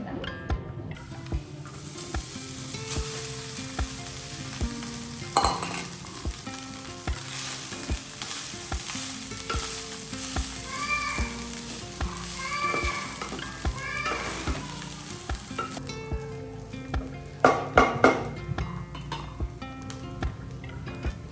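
Pre-cooked rice goes into a hot pan for amla rice, sizzling and frying loudly while a spoon stirs and scrapes through it in irregular strokes, with a few sharper clatters near the end.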